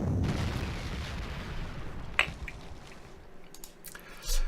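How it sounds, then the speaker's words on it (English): Artillery fire in the wargame Panzer Corps 2, an initial rumbling boom followed by a couple of sharp cracks and a final low thud, short bursts separated by quieter gaps, no talking. "I'm going to suppress this anti-tank with my own artillery"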